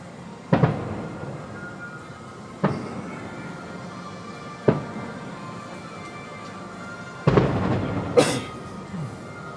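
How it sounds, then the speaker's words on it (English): Magic Kingdom fireworks booming in the distance: several sharp, separate bursts a second or two apart, each decaying slowly over a steady background hum with faint music. "So those are Magic Kingdom fireworks."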